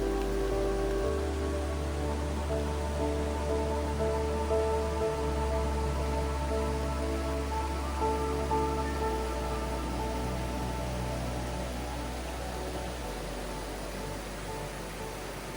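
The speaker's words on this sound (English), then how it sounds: "two little waterfalls join together." Two small waterfalls merge along a hiking trail in Santa Clarita during the rainy season, giving a loud, steady, unbroken rush of water with no voices.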